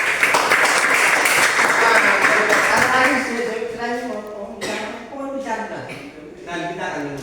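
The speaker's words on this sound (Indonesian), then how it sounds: "Oke, tepuk tangan untuk Lydia." Classroom applause for a student named Lydia, a burst of clapping from a group for about four seconds that fades as voices and chatter take over.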